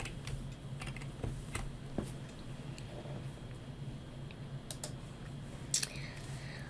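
Computer keyboard arrow keys pressed while moving a sprite in Microsoft MakeCode Arcade, scattered quiet clicks and taps at an uneven pace, with faint talk in the background.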